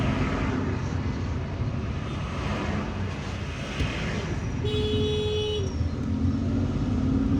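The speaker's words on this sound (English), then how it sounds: "there are lots of cars here" Steady car traffic on an Algerian motorway near Issers on the road to Tizi Ouzou, a continuous rumble of engines and tyres heard from inside a moving vehicle, with a brief whine of a passing vehicle midway.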